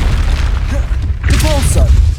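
In Hogwarts Legacy, a Confringo fire spell erupts in a deep, rumbling blast amid continuous loud game noise, with a voice speaking over part of it.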